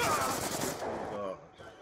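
Rapid MTAR assault rifle bursts in Call of Duty Black Ops 2 multiplayer, loud close automatic fire cutting off abruptly, with a voice talking alongside.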